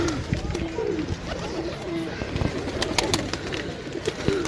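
Pigeons for sale in Sarai Alamgir, Pakistan coo repeatedly at close range, soft throaty calls recurring every second or so over a rustling, busy background.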